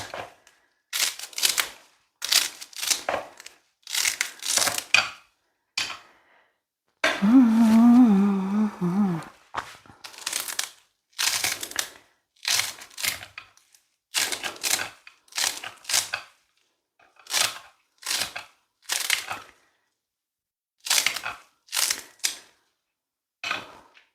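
Knife chopping fresh dill and parsley on a board, quick close bursts of sharp taps repeating in short runs with pauses, plus a brief rustle in the middle.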